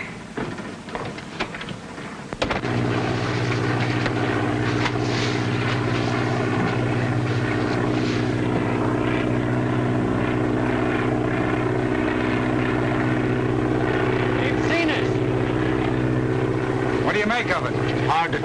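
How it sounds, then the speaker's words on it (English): Propeller airplane flying overhead in a 1939 film, a loud steady droning engine that cuts in abruptly and holds with a rich buzzing tone, with people talking over it. "Is a plane coming?"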